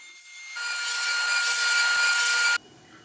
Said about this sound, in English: I cut the dados on the table saw sled for the dividers for the sandpaper